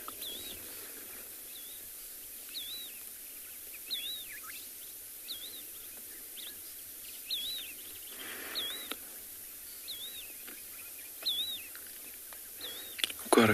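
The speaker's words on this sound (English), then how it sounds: "Got a few birds calling in the background, some yellow-throated longclaws calling." Yellow-throated longclaws call at dawn on a Kalahari safari morning, a series of short, faint whistled notes repeating every second or so at a distance over a quiet background hum.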